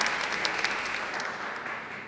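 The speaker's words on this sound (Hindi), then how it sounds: "तालियां डीनो की।" A talk show studio audience claps steadily, a dense, even wash of applause that fades slightly toward the end.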